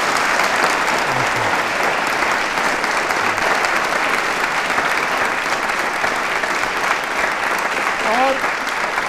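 A studio audience at an elections quiz show applauds steadily and loudly for the whole stretch, a dense wash of clapping with a brief voice surfacing near the end.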